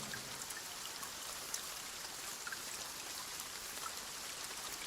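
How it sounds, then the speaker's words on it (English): Steady heavy rain in the shooter game Gray Zone Warfare, a dense even hiss of drops on surfaces filling the whole stretch, loud and continuous with no voices. "hide player movement from the sound of rain, because listen to this"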